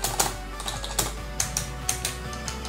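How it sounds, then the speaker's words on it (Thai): Keys are pressed on a Dragonic Javelin Black gaming keyboard, giving about eight sharp, close clicks in an uneven rhythm over a low steady hum, with no speech. "ดูลักษณะการเด้งกลับของตัวคีย์บอร์ดนะฮะมันไวมาก"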